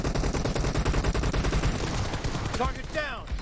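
PUBG Mobile gunfire in a steady, rapid string of shots, loud and close, easing near the end as a short whistling effect rises over it.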